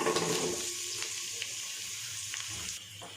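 Sliced onions, cinnamon and cardamom hit hot oil in a loud opening burst of sizzling, which settles into a steadier crackle with a few sharp pops and a brief stirring scrape, close up and without speech.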